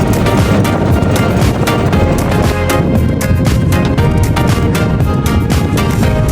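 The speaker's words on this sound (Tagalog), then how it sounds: "Laki ng mga motor na to." Loud, continuous roar of large boat motors running at sea, mixed with heavy wind buffeting and rushing water.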